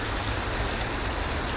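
Fast-flowing river water in a woodland, a dense, continuous rushing roar that fills the whole clip at steady loudness, close and uninterrupted with no voices.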